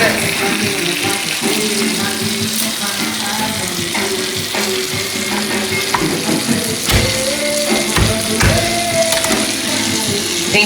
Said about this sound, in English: You see that butter starting to sizzle.